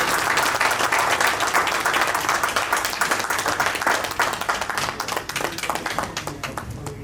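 An audience at a bank officers' association workshop breaks into loud, sustained applause, crisp individual claps becoming more distinct as it gradually thins toward the end.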